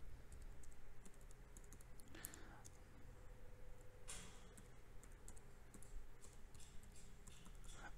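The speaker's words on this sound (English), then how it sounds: "Now here we type your name, the name of the Reiki master." Quiet, light keystrokes tap on a computer keyboard, typing a name in a sparse irregular patter under low room hiss, with a couple of sharper clicks.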